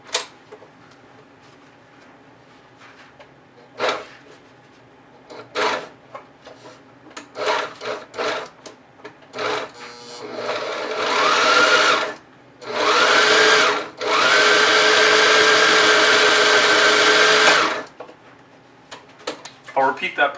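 A sewing machine stitches down a pleat on a backpack pocket, starting with scattered handling rubs and taps, then running in three sustained bursts of whirring, the last one longest.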